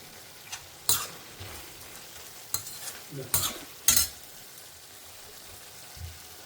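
Vegetables cooking in a pan for Karnataka-style kadamba rice, with sporadic scraping stir strokes over a soft steady sizzle, close and moderately quiet, no talking.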